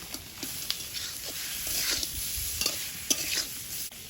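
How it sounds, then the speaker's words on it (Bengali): Shrimp tossed into hot oil with ground coriander, cumin, garam masala, salt and turmeric for prawn biryani, sizzling and frying steadily while a spoon stirs and scrapes the pan with scattered clicks. "এবার চিংড়িটা দিয়ে দেবো"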